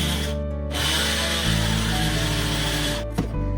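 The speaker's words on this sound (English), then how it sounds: "Now let's grind them into a fine powder." A kitchen mixer grinds roasted peanuts and jaggery into powder with a loud, close, steady whirring roar. It stops briefly, then starts again with a rattle from the jar.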